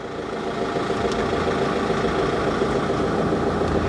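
Carthago C-Tourer motorhome engine running as the vehicle pulls forward: a steady, even diesel drone, close and continuous, with no talk.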